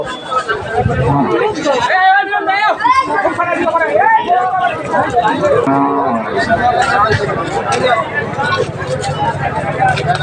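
Sahiwal Sindhi cattle moo loudly and close at a busy cattle market, with several drawn-out calls rising over a dense babble of crowd voices and nearby talking.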